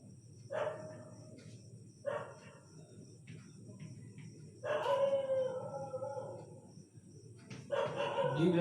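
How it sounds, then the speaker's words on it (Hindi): Dogs bark and howl at night in several drawn-out bursts, separated by quieter gaps and growing louder toward the end, heard at a moderate distance over a faint steady hum. "रात में वीडियो बनाने से यही होता है, कुत्तों की आवाज आती रहती है"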